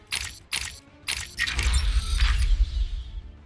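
Menu interface sounds from Batman: Arkham Asylum: three sharp metallic clicks in quick succession, then a swelling, rumbling whoosh with a low boom that fades out.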